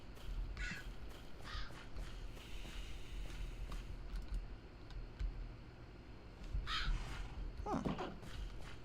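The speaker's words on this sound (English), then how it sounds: "Crows." Crows cawing in the survival video game Beyond the Horizon, several harsh calls at a distance over faint ambient game sound, with a few soft clicks and no talk.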